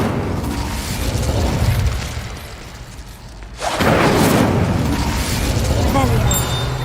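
An Incendio fire spell cast in Hogwarts Legacy, with a loud rushing, roaring whoosh that swells after a brief lull and stays dense and steady, under talk.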